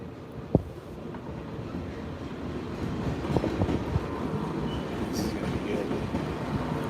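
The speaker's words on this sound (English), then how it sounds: "Here comes the train." A train rumbles past nearby, a rolling low roar with rattling wagons and some wind buffeting the microphone.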